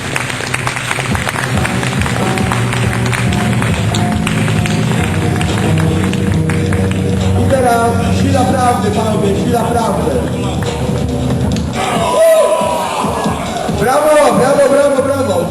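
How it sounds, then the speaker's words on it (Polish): A crowd at a live comic-drawing battle at a convention claps and cheers loudly, dense applause mixed with crowd noise and chatter throughout, while a speaker talks over it. "Brawa dla kombatantów"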